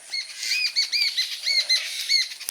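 A bird beating its wings in quick repeated flurries while giving short, bright chirping calls in a rhythmic series, close and fairly loud with little else around.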